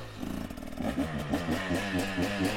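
A motorcycle engine revs hard under throttle and clutch control, a loud, close, continuous snarl that rises and falls in quick, uneven surges for the whole stretch, with no talking.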